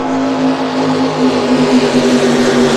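Twin turbo Mercruiser-based big block engines of 800 horsepower offshore superboats racing on Lake Macquarie, a loud steady droning roar with a sustained low hum that holds throughout.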